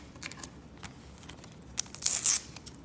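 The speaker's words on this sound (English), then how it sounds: "Let me go ahead and cut him out of here." Scissors snip through a Taeyong photocard with a short, quiet cut and a brief papery rasp near the end, set against low background noise.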